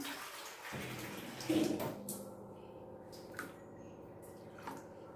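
Water splashes and pours into a thick semolina rava dosa batter, followed by soft drips and a few light knocks in a quiet kitchen.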